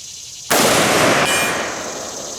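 Sharp impulsive crack from a Midwest 300 Blackout pistol at an outdoor range, followed by a lingering ring as the round dings a steel target about 190 yards out; a single loud report with a decaying tail.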